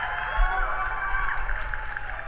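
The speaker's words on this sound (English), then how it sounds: "Round of applause, guys." Applause sound effect played during a livestream: a dense, steady wash of clapping and crowd noise that holds at an even level for the whole stretch, with no one speaking over it.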